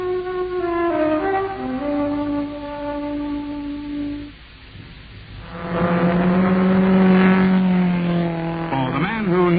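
A car engine revs loudly with rising and falling pitch, then drops briefly before revving up again strongly, as a sound effect in an old 1969 radio advert for car wax.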